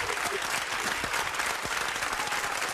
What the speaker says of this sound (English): Keep them applause going.